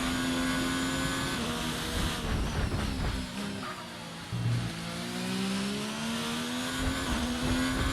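A Formula 1 car engine in a racing video game whines at high revs, rising and dipping as it shifts gears, loud and continuous with no voices.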